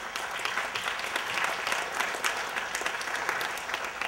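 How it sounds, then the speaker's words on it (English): A graduation ceremony crowd applauds steadily, many hands clapping in a dense, sustained burst that fills the room. "please give yourselves a round of applause again"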